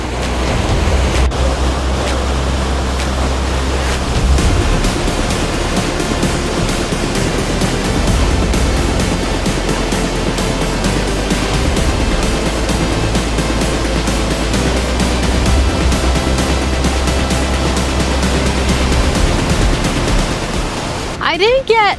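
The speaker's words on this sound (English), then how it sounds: "I can also hear the roar of the waterfalls." Iguazu Falls roars at the Devil's Throat, its most powerful section, heard from right above: a dense, continuous wash of thundering water that fills the whole stretch without a break.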